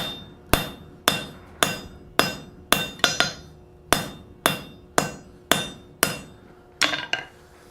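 Heavy blows from a 3-pound hammer ring out on hot steel while forging a cold chisel, about a dozen sharp clanging strikes in a steady rhythm with brief pauses, close and loud with no talking.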